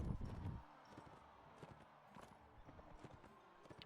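Horse hooves clip-clop at a walking pace in a Mount and Blade Warband tournament, with a few separate hoofbeats after a louder burst at the start, all fairly faint.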